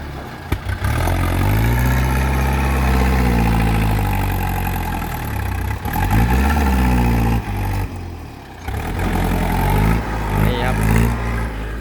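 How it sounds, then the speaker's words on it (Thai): A vehicle engine is pushed with the accelerator floored during dirt work, roaring and surging through several rises and dips, under loud Thai speech. "คันเร่งมีเท่าไรเหยียบให้หมดเลย"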